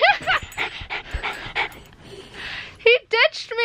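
Indoors at home, a dog pants rapidly up close and then lets out a few high whimpers and yips near the end, with excited human voices mixed in.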